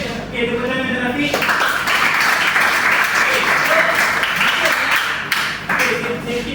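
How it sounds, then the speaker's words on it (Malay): A classroom of students claps for a classmate after a good answer, a loud close dense patter of hands with some thumps, bracketed by a teacher's voice before and after. "tepuk tangan kepada Rafiq"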